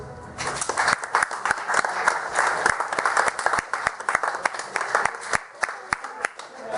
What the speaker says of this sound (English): so it's a round of applause.